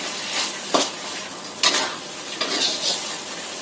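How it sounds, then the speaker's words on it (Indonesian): Chopped spring onions stirred into a thickened chicken sauce in a pan until wilted, with a quiet sizzle and several quick scraping strokes of a spatula against the metal, close and alone. "Setelah mengental, kita tambahkan daun bawangnya. Kita aduk sampai layu."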